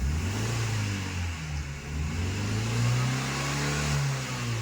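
A Suzuki APV with a Valvetronik valved exhaust set to standard mode revs repeatedly, its note rising and falling in pitch, with the engine climbing highest mid-clip; no talking.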